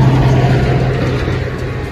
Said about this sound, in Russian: Тут еще машины ездят, шумят.